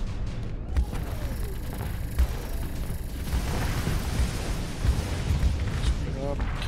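A starship is destroyed in a battle in the modded space game Starsector, sounding as a dull low boom beneath a constant rumbling din of ongoing combat, with several softer thuds scattered across the few seconds.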